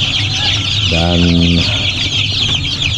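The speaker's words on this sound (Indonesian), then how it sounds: "Ayam Arab ini totalnya ada 200 ekor untuk kami budidayakan di tempat ini." A large flock of Arab chicken roosters clucking in a farm coop, continuous dense clucking and calling throughout with a louder, sustained crow-like call in the middle, with a brief spoken word.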